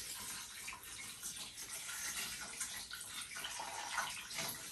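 Water runs from a tap into a cooking pot holding a ham with figs and bay leaves, a steady faint splashing gush that continues throughout with no talk.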